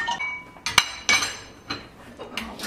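Plates, bowls and cutlery clink and clatter as they are set into a kitchen dish rack, a handful of sharp separate knocks spread unevenly over a few seconds, close and clear with no talking.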